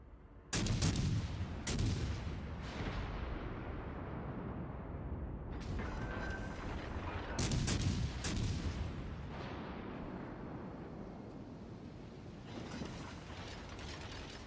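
Heavy naval gunfire from warships in World of Warships Legends, including a big battleship hit: several loud broadband booms at irregular intervals over a continuous rumbling battle backdrop, with no talk.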